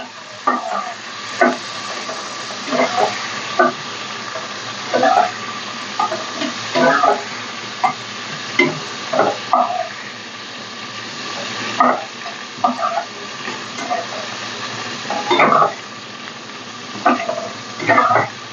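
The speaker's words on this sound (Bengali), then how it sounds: "ফুলকপিগুলো একটু ভেজে নিতে হবে।" Cauliflower pieces fry in a pan for a Bengali koi fish curry, giving a steady low sizzle broken by repeated scraping stirs of a utensil at close range.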